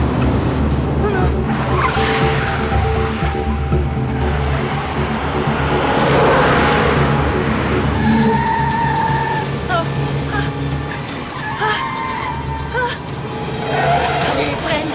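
A car brakes hard and skids, tires squealing over a steady engine rumble, while people shout and talk anxiously throughout the scene.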